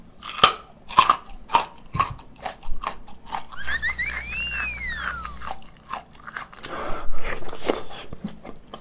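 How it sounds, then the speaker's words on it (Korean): Someone bites and chews raw carrot, producing sharp crunchy bites followed by rhythmic close-up chewing crunches, loud and near with no speech. "당근 한입 하겠습니다"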